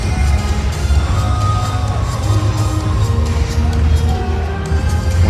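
A crowd of 7,350 spectators fills the SAP Arena in Mannheim at a fistball world championship bronze medal match, a loud, continuous roar of cheering and shouting with a commentator's voice over it.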